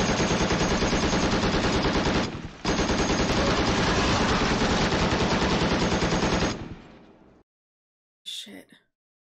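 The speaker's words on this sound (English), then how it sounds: "They're just shooting with any gun they have." Sustained machine gun fire from the TV series The Pacific pounds in long, loud, rapid bursts with a brief gap, then stops abruptly before a short final noise.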